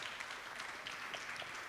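An audience at the VeChain Summit 2019 applauds a panel with steady, quiet clapping from across the room, with no talk over it.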